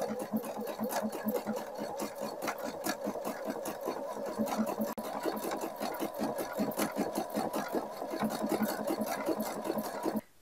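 A sewing machine stitching with a twin needle runs in a fast, steady mechanical rhythm of needle strokes for about ten seconds, close and alone, then stops abruptly.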